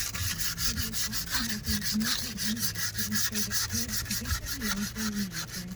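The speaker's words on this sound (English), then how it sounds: "you're just scratching the surface rust away" Surface rust being scraped off a 1980 Jeep CJ7 wheel rim, a close, continuous rhythmic abrasive rubbing with quick repeated strokes at steady loudness.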